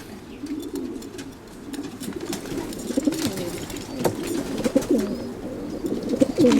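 Racing pigeon cocks coo softly and repeatedly in low, rolling calls, close by, with faint rustling and small clicks in the background.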